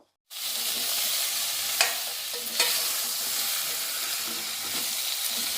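Chili powder, turmeric and coriander powder fry in a sambar pan with a loud, steady hiss. The hiss starts abruptly and is marked by a couple of sharp scrapes as the spices are mixed.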